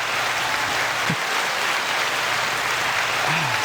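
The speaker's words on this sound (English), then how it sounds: "Stop applauding" A studio audience applauds steadily for the whole stretch, a dense, even wash of clapping with a brief voice rising faintly underneath.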